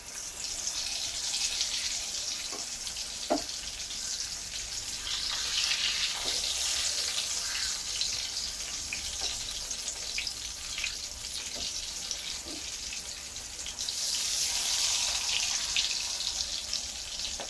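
Potatoes fry in a hot pan while being flipped, a steady broad hiss of sizzling oil with a few light clinks and scrapes, the sizzle swelling louder near the end.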